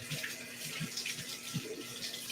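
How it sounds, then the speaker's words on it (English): A tap runs steadily while a tomato is washed under it, a close, continuous splashing hiss broken by a few soft thumps as the fruit moves in the stream. "So let me wash off my tomato."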